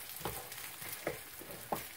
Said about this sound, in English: And it's slowly already frying.